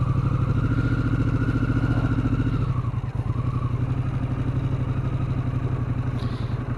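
A 2003 Harley-Davidson Fat Boy Anniversary Edition motorcycle runs loud and close on a gravel road with a steady pulsing throb, shifting pitch partway through, with a faint crunching clatter of gravel beneath.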